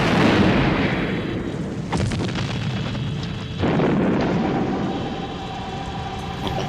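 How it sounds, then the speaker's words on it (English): An incendiary device bursting inside a robot nest in a Captain Scarlet audio drama, a loud rumbling explosion followed by a second heavy blast and a lingering roaring fire with crackle. "He flung the charge into the nest."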